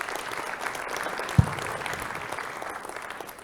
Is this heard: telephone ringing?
no